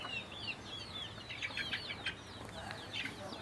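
Hens cluck and chatter in a steady flock, with scattered higher calls rising and falling throughout, close by and moderately loud.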